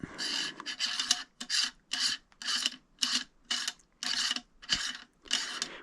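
A 2-inch push-fit telescope flattener with brass compression rings is worked loose, giving a series of about eight short, gritty rasping bursts separated by brief silences, close and moderately quiet, with no talking.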